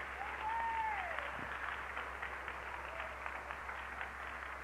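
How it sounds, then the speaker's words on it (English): Church congregation applauding for a steady stretch at moderate level, a brief whistle-like tone over the dense clapping and no cheering voices standing out. "Somebody, give Jesus a hand clap."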